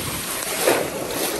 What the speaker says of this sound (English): look at the ocean, how wonderful it is